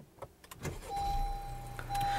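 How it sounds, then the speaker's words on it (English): A 2016 Honda Civic's push-button start: a faint click, then the engine turns over and settles into a quiet, steady idle with a faint high whine. "to start the car up, all you have to do is put your foot on the brake and then push the button to start the engine"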